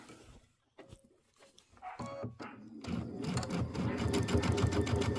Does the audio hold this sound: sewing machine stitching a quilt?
yes